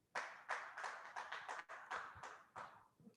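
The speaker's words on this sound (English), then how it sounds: "Please, a round of applause for us." Seminar audience on business and professional ethics applauding, a short burst of scattered hand claps that quickly fades out, fairly close and uncluttered.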